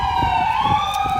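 An ambulance siren sounds as a loud, continuous wail that rises steadily in pitch over a faint road rumble.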